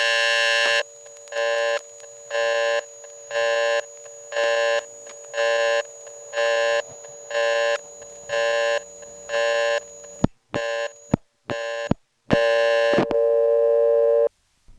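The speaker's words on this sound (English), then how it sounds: "that had so many nice organic phone sounds in it that it hardly bothers me that that was an example of being cut off from the toll network" Telephone network signal tones on a 1977 GTE step-by-step exchange after a call is cut off: a steady pulsing tone sounds repeatedly, then gives way to irregular clicks and short bursts near the end.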